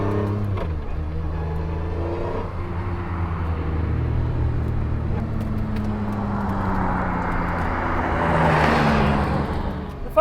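Engine of a sports car heard from inside the cabin, a steady loud drone with its pitch shifting as the revs are blipped on downshifts, rising toward the end.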